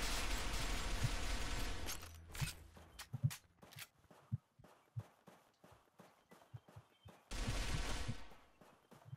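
Gunfire in the video game Arctic Combat: a rapid run of sharp, separate shots set between louder, denser blasts of noise at the start and end, with no clear talking.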